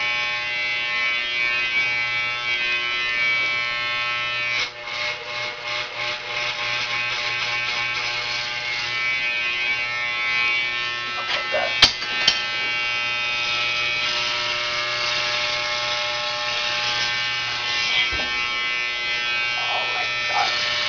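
A steady electric razor buzzes continuously up close while shaving a head, its motor tone shifting slightly as it moves over hair, with a brief sharp click midway.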